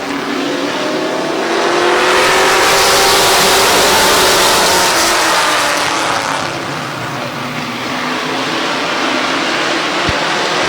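Mini Street Stock race cars roar around the oval at Midvale Speedway during an eight-lap heat race, a loud, continuous blend of several engines that swells as the pack passes close and then eases slightly.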